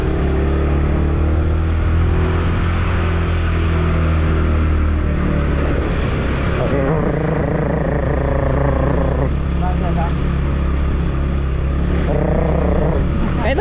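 A motorcycle ride gives a steady, loud engine drone and wind rumble throughout, with a voice talking over the noise.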